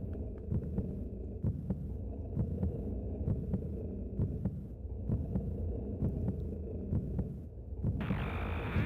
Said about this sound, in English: I can hear the heart beating